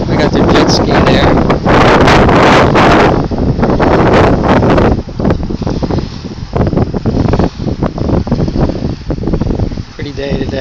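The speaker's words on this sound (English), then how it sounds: "Pretty day today, but it's very windy." Strong wind blows over a beach causeway at Dunedin, loud buffeting roaring across the microphone throughout, with surf and outdoor ambience faintly beneath.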